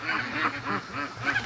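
A young free-range goose honks repeatedly in quick nasal calls, about five or six bursts at a steady rhythm, close to the listener and moderately loud.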